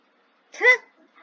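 A dog in Minecraft, a video game, gives one short bark or yip up close, with a couple of faint softer sounds just after.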